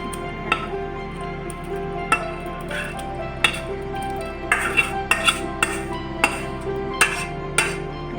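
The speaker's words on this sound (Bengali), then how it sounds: "ভালো করে নেড়ে নেবো।" Vegetables being stirred in a metal pot for vegetarian khichuri, with a utensil scraping and clinking sharply against the pot in irregular knocks over a steady low background hum, no voices.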